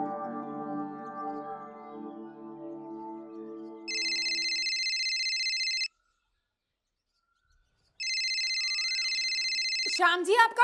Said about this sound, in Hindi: आपका फोन।